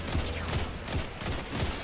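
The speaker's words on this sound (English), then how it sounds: "who's shooting at me?" Muffled, distant rapid gunfire from Destiny 2 rolls on steadily in a dense, rumbling stream with no pauses.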